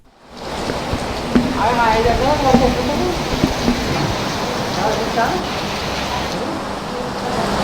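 Heavy rain pours down in Hyderabad in a dense, constant roar, with faint voices briefly murmuring beneath it.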